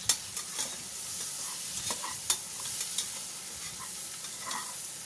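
Masala with chili powder fries in a pan while a spoon stirs it, producing a continuous sizzle broken by repeated scraping taps and clinks of the utensil at an uneven rhythm.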